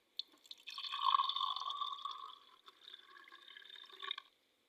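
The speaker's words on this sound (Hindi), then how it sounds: "इसके अंदर मैं मज़ीद एक बार पानी ऐड कर देता हूँ।" Water is poured into a container holding mercury, a close, trickling gurgle with a rising tone that trails off and resumes briefly before stopping.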